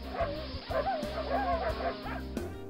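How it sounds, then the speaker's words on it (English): Several boisterous dogs bark and yip excitedly close by, a busy overlapping chorus of short barks with whimpering tones over a low background hum. "If these boisterous dogs do not settle down and stop barking so much, I will send them to the pound."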